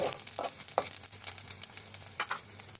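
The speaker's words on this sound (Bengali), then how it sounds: "চালটাকে ভালো করে ভেজে তুলে নেব" Rice frying in hot oil in a wok for a fish-head murighonto: a steady crackling sizzle with irregular scraping stirs and patter throughout, close and moderately loud.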